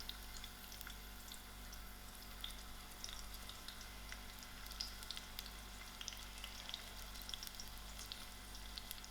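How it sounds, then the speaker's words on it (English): Onions frying in heated oil in a pot for a double bean and potato curry, a faint, steady crackling sizzle with fine scattered pops over low hum, continuous and without voices. "My oil is heated up, so I'm just going to add in my onions to it."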